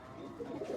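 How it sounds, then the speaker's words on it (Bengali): An Australian dove coos softly in a short, low, repeated call at close range, with no other sounds around it. "এখানে আছে অস্ট্রেলিয়ান ঘুঘু"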